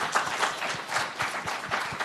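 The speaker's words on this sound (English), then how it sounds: "I just want to give them a round of applause" Conference audience gives a round of applause, a brief burst of steady, fairly loud clapping with rhythmic individual claps showing through.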